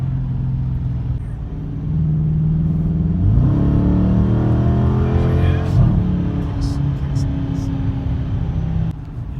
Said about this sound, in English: Oh, it kicks down fast when it's in a sport.